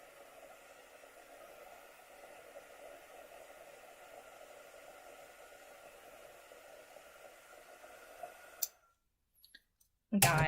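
A hair dryer blows steadily on a craft piece for about eight seconds before cutting off with a click, followed by brief near silence and a few small knocks.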